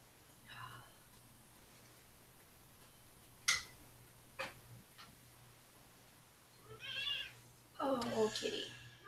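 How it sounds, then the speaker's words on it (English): A cat meows a few times, faint and a little distant, with short mewing calls early on and a longer cluster of meows near the end, separated by scattered clicks and ticks in a quiet room. "Oh, kitty."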